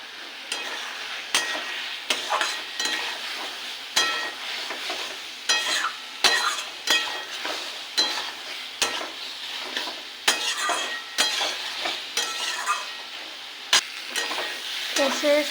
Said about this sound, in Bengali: এবার দিয়ে দেবো ভেজে রাখা চিংড়িগুলো।